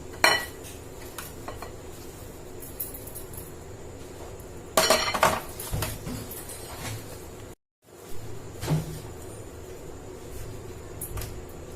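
Sugar is added bit by bit into besan ladoo mixture in a pan and mixed, giving close clinks and scrapes of a metal spoon against the pan, with a louder clattering burst midway and a short gap, no talking.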